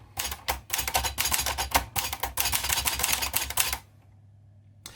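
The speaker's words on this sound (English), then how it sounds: "So we'll do a small bit of typing just to put it through its paces and give you an idea of how it types." A red 1969 Olivetti Valentine typewriter being typed on: rapid, close clacking keystrokes in dense bursts for nearly four seconds, then stopping abruptly into near silence.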